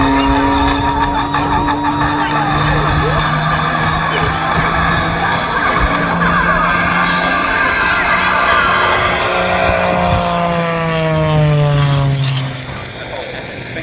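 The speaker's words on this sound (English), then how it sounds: "So Paul opens the throttle up again, he's repositioning for his landing sequence." A propeller aerobatic display plane roars at full throttle while repositioning for its landing sequence at an air show, a loud continuous engine drone with pitch sweeping downward as it passes, fading slightly at the end, with a commentator talking over it.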